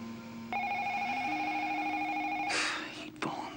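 A telephone rings indoors in a television soap drama, a steady electronic tone held for about two seconds before it cuts off, followed by a brief clatter as the receiver is picked up.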